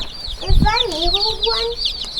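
Newly arrived baby chicks peep in rapid, high chirps while a hen or chicken clucks low and close on a homestead, the calls overlapping busily for a couple of seconds.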